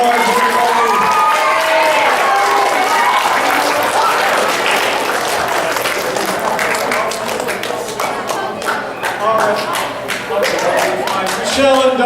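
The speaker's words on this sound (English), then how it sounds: "let's give them another round of applause" A live audience at a comedy show with a masked performer bursts into loud, sustained applause and cheering, dense clapping that fills the room for several seconds before thinning out near the end.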